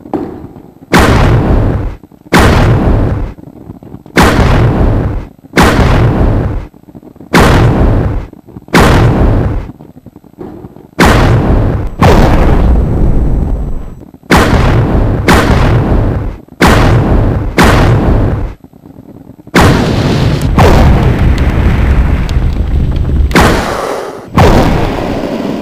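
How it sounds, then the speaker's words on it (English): Weapon rounds exploding one after another in Resident Evil Zero, a steady series of about fifteen loud, close booming blasts, each with a short decaying tail, followed by denser overlapping explosions near the end. "I'll show you how the round explodes"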